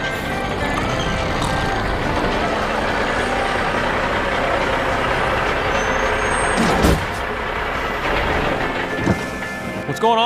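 An animated truck in a Cars deleted scene hisses its air brakes as it stops on a highway, a loud steady rush with sharp bursts near the end over dense stormy background noise.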